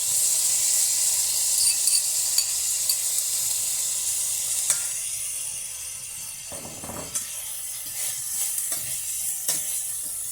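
Saltfish sizzles in a frying pan for a Jamaican dish of baked beans and saltfish, a steady close hiss broken by scattered scraping and stirring clatters, with no talking.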